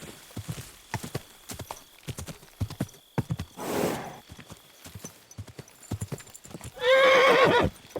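Horse hooves clip-clop in a steady walking rhythm in the medieval video game Kingdom Come: Deliverance II, broken by a rushing swell midway and a loud whinnying neigh near the end.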